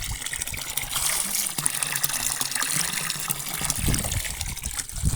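Water pours steadily from a large public fountain, a close, continuous splashing trickle with a bright hiss and occasional gurgling bursts, heard alone without talk.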